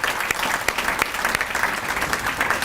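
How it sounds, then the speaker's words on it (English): Audience at a Paramount Chamber of Commerce State of the City address gives a steady round of applause for sponsor Paramount Petroleum, dense clapping throughout at a consistent loud level. "If I can get a round of applause for them."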